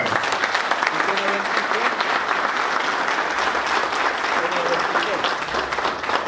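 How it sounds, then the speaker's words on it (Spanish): A crowd gives sustained applause for an honoree, a dense and even roar of clapping that holds at a steady loudness for over six seconds with no speech over it. "Un fuerte aplauso para él."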